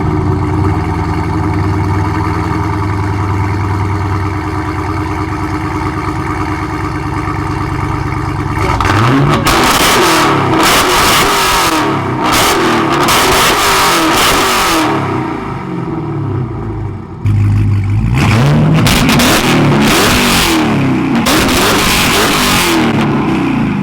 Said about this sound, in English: let me show you guys what this exhaust sounds like